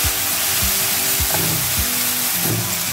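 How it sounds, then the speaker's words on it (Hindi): Ginger, garlic and green chilli paste hits hot oil with lightly browned onions, giving a steady close sizzle and crackle with soft stirring scrapes, no voices. "अब इसमें डालेंगे 4 टेबल स्पून लहसुन अदरक हरी मिर्च का पेस्ट"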